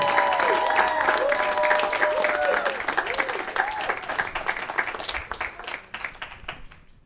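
A comedy club crowd claps and cheers as a comic walks on stage. The dense applause is loud at first and thins out toward the end, with a few vocal cheers and whoops riding on top.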